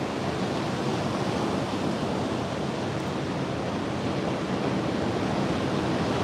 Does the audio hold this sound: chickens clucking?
no